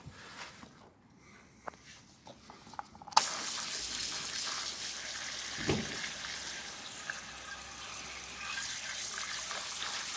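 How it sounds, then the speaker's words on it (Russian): Water from a pressure sprayer hisses steadily onto the cooling fins of a Husqvarna 545 autotune chainsaw during foam and brush washing, beginning abruptly after a few quiet seconds of brief scrubbing clicks, close and continuous. "также и мою автотюн щеткой с пеной для бесконтактной мойки"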